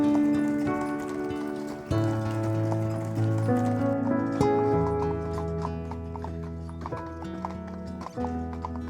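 Hooves of a ridden Lipizzaner horse clip-clop steadily at the Lipica Stud Farm, close and distinct over a droning musical background, with a brief whinny-like tone.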